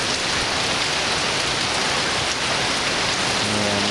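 Heavy summer thunderstorm rain in west central Florida, a dense, steady roar of downpour drumming on surfaces, loud and unbroken throughout.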